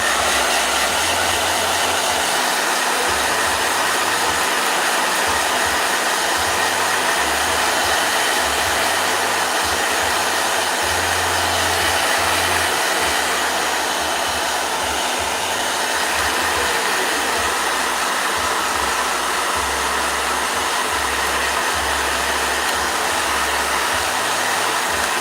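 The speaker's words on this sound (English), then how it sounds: "Blow dryer." A blow dryer runs continuously at close range, a loud, steady airy whoosh with a low motor hum that wavers slightly in pitch throughout.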